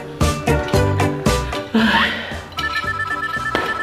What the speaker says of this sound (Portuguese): esse telefone tocando de novo